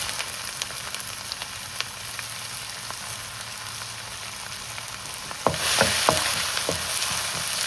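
Onions drop into hot oil already seasoned with asafoetida for a spinach dal, bursting into a louder close sizzle after a quieter stretch of gentle frying crackle, with no talk.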